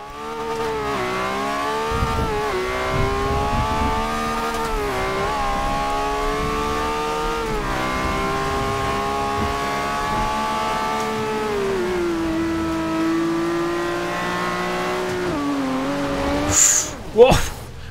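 A Lamborghini Aventador engine driven in the racing game Forza Horizon 2 holds a steady, loud drone, rising and falling as the driver accelerates and shifts, with brief tire and impact noises near the end.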